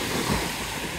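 Rough surf rolls and washes continuously along Navarre Beach, a dense, broad roar blended with wind noise.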